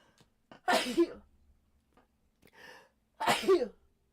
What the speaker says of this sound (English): We're gonna sneeze.